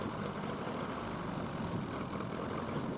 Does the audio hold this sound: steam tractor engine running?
yes